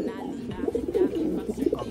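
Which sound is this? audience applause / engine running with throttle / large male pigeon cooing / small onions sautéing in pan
large male pigeon cooing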